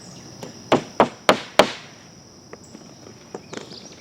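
Four sharp hammer blows drive a six-penny nail into a spread turkey tail fan, spaced about a third of a second apart, followed by a few lighter taps; close and clear with no talking.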